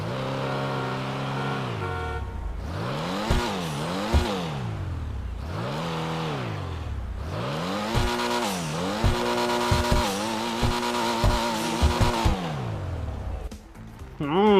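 Pfister Comet SR sports car, modeled on a Porsche 911SC Targa, in a video game: its engine revs up and drops repeatedly through gear shifts with rising and falling exhaust tone, with brief tire chirps and a final burst of acceleration, loud and close.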